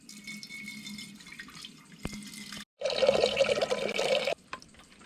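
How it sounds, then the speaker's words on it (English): Water is poured into a cooking pot at a riverside camp in Western Australia, a close splashing gush that starts abruptly after a brief pause and runs for about a second and a half before tapering. "So get a pot on here, a bit of water."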